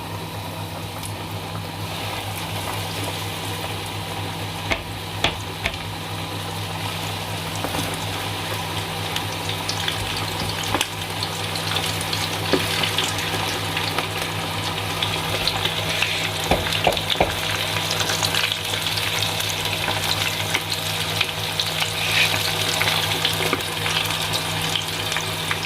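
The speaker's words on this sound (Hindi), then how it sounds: "तकरीबन इनको आपने 5 से 6 मिनट के लिए फ्राई करना है, क्योंकि ये डबल फ्राई होंगे।" Pieces of Korean fried chicken sizzle steadily in hot oil, a loud, continuous crackling fry that runs throughout with a low hum beneath it.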